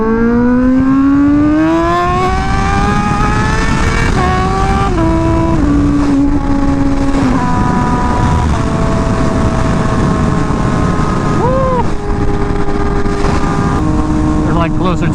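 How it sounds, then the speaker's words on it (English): A Honda Fireblade RRR SP sport motorcycle is ridden on the road, its engine loud and close, with pitch that rises and falls through gear changes and wind rushing steadily underneath. "I guess it's more of a, like a pure sound of the Fireblade."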